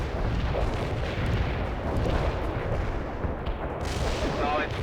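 Artillery barrage in the World in Conflict war strategy game: a dense, continuous roar of overlapping explosions and crackling impacts, loud and unbroken for the whole stretch, with faint voices mixed in.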